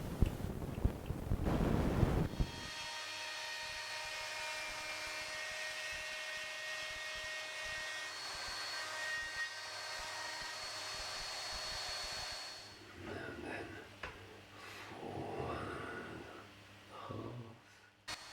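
A WoodRat router cuts 8mm cross-cut slots every three-quarters of an inch across a wooden plank, a steady high motor whine running for about ten seconds after a short thump, then dropping away to quieter handling noise.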